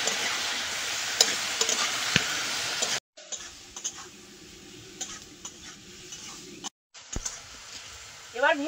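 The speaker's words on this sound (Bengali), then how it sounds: "লবণ হলুদ দিয়ে আলু বেগুনটা একটু কষিয়ে নেব" Potato and eggplant sautéing in a pan with green chili, salt and turmeric, a loud hiss of frying for a few seconds, then softer scraping stirs with short breaks and a brief clink.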